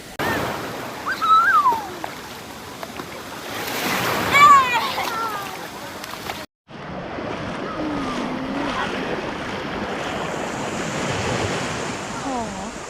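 Broad wave-pool wash rolls steadily with wind rumble at a water park, while several people chatter and call out nearby over the churning water.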